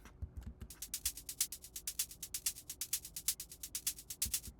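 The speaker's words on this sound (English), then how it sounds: "I just have the shaker here, which is doing a lot of the groove work of the song" Shaker percussion in a song mix, centred with no auto pan: a quick, steady train of soft, crisp shaking hits repeating evenly, fairly quiet, with no voices.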